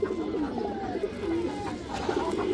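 A domestic pigeon coos close by in repeated low, rolling phrases that run steadily with a steady background behind them.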